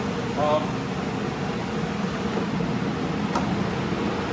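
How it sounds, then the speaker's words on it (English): Workshop dust collection system running as a steady, even broadband whoosh and hum, continuous and moderately loud, with someone talking over it. "We're back here with our dust collection on."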